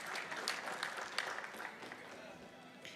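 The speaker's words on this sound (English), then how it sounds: "let's get another round of applause for Mr. Dino" A Games Done Quick event audience applauding a world-record speedrun, a steady mid-level wash of clapping lasting throughout, with speech mixed in.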